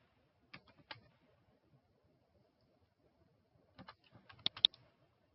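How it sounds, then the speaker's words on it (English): Keys are tapped on a computer keyboard in two short bursts with a quiet pause between them, faint and close. "simply start typing your city and choose the correct option"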